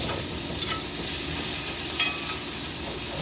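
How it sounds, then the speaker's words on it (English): Beef with chunks of fat, seasoned with salt and pepper, fries in a pan for a steak omelette, giving a steady, close sizzle and hiss with a faint crackle now and then. "Beef has a few chunks of fat in there. Render some of that down."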